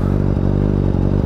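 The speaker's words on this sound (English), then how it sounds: "Starting to rev it a little bit higher in the RPMs, bro. And it sounds amazing." A 2022 Kawasaki ZX6R 636 KRT motorcycle engine runs loud and close, with a deep, steady, throbbing rumble held throughout the short burst.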